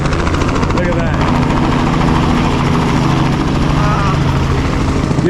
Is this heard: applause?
no